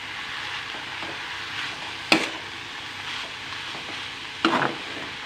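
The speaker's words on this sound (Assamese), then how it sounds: "আকৌ লৰাই দিম।" Chickpeas and greens stirred and frying in a pan, with a steady soft sizzle and two sharper scraping stirs standing out; no talking.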